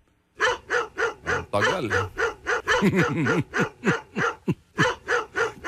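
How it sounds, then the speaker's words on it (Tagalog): An attack dog barks repeatedly at close range in a steady series of loud, sharp barks, with a few yelping, whining notes mixed in. "Narinig nyo na ho yung kahol."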